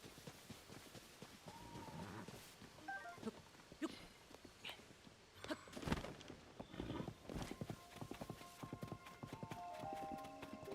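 Horse hooves clip-clop in the video game Tears of the Kingdom, a soft, fairly quiet stream of steps mixed with scattered game sound effects.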